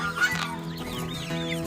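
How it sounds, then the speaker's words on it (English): Three turkeys moved outdoors on a morning bird check give short clucking and chirping calls, a few quick bursts close by over a steady background hum. "I just moved the 3 turkeys out here,"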